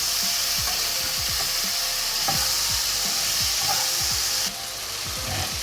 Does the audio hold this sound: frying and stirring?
yes